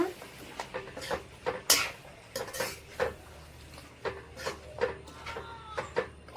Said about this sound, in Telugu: అది కూడా వేసి ఇలా కలుపుకోవాలి.